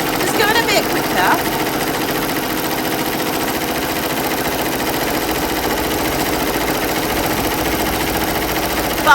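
A computerized embroidery machine stitches at 850 stitches per minute, a steady fast mechanical whir running the whole time at close range, with a person talking over it.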